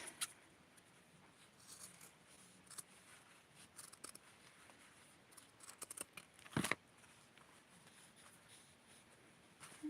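Scissors snip excess fabric from a small doll outfit in quiet, close, intermittent cuts, with one sharper clatter midway and no talking.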